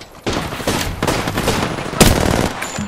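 Gunfire in a multiplayer shooter match rattles out in rapid automatic bursts, loud and close, with a few sharper individual shots standing out over the dense clatter and no talk.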